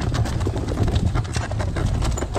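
Horses grazing in a pasture, their hooves giving a busy, uneven run of soft clip-clop steps close by, with a faint outdoor background and no talk.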